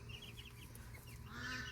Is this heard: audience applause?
no